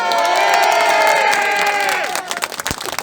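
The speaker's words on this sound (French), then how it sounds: "on peut les applaudir" Crowd at a street demonstration in Beauvais cheering and applauding loudly, with sustained shouts and whoops over clapping that breaks into scattered claps toward the end.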